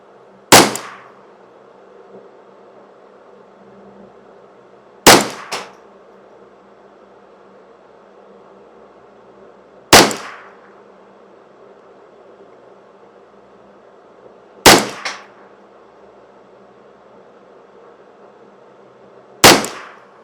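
Five evenly spaced, loud rifle shots from a custom-shop Ruger 10/22 rimfire firing its last rounds, each sharp crack about five seconds apart with a short echoing tail and quiet between.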